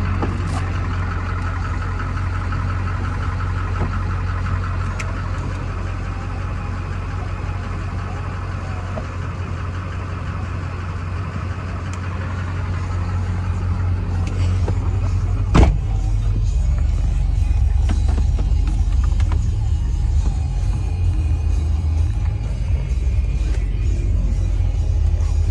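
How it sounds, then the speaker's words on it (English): A 2004 GMC Sierra 2500HD 4wd pickup with a 6.6L engine accelerates through its gears, a heavy, continuous low engine drone inside the cab that swells louder after one sharp knock, with no talk. "Get it up to about 65, 75. Running through some gears."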